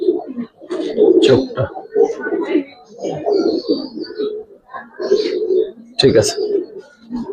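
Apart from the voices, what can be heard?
Giribaz pigeon cooing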